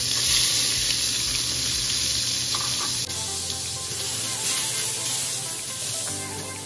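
Garlic sizzles and fries steadily in hot butter and cooking oil in a pan, a loud continuous crackling hiss with no talk over it.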